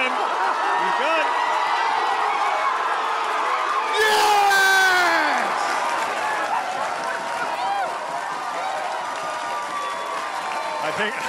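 A rugby match crowd in a Connacht game roars and cheers loudly, swelling into a burst of applause and whoops before settling back to a continuous din, with a commentator talking over it.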